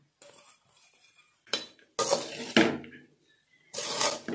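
A spoon stirs and scrapes a flattened rice (aval) tiffin dish with coriander in a pan, making short, close bursts of metallic scraping and clinking with brief pauses in between.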